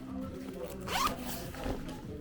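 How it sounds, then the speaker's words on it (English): A windbreaker jacket zipper is pulled up and down a couple of times at a thrift store, two quick close rasping zips over quiet room background, with faint speech underneath. "Always check the zipper if it works."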